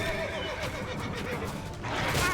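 Horse neighing in The Witcher 3 video game, a loud whinny with wavering pitch near the start, followed by a second brighter whinny toward the end over steady game background sound.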